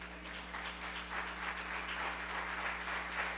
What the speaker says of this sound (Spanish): ¿Cuánto le da un aplauso al Señor por eso?